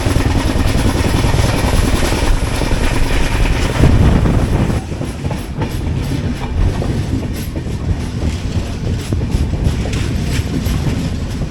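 Kochuveli to Mumbai LTT Superfast Express (22114) rolling into Madgaon station, a steady loud rumble of rail wagons with clickety-clack wheel beats that eases slightly as the train slows.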